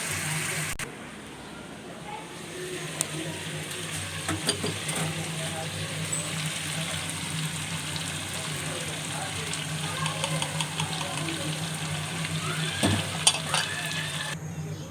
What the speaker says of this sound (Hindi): अब मैं इसमें दही ऐड करती हूँ।